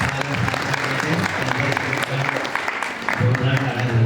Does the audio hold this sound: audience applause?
yes